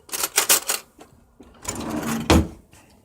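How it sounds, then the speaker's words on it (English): Metal spoons clatter and jangle as they are pulled from a kitchen drawer, with a burst of rattling, a pause, then more clinking and a sharp clack, close and fairly loud. "let's get us some spoons up out of here."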